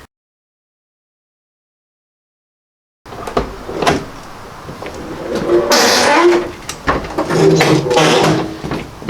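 A van's door is opened after a few seconds of silence, with clunks, rattles and scraping of the door and handle, close and fairly loud, with no talk.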